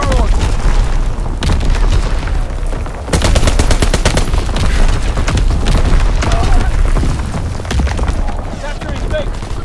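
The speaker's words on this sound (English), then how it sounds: "Incoming enemy artillery." Incoming enemy artillery explosions in Call of Duty: WWII multiplayer domination on the Shipment 1944 map, with heavy booms and rapid gunfire bursts packed densely together, loud and continuous, under radio-style voice announcements.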